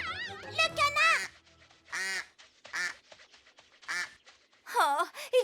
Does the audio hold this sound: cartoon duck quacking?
yes